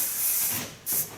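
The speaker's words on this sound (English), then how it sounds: "And to end this process, I use Caribbean wax spray." Two short bursts of hair wax spray hiss from an aerosol can, close by, with a brief pause between them.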